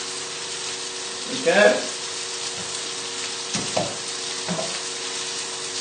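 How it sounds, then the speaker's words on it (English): Pasta is stirred in a pan over a constant frying sizzle, with a few scraping spoon strokes, and a short spoken remark partway through. "I'm just going to give my pasta a little stir."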